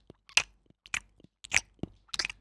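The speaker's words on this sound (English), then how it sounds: "Just chewing gum." Gum chewing up close, a series of wet, crunchy mouth clicks and smacks in an irregular rhythm, about five distinct bursts separated by short silences, faint overall.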